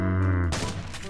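A powerful gun fires in Minecraft: one loud burst lands about halfway through, right after a steady tonal hum that cuts off at the blast, and it rings out alone with no voices.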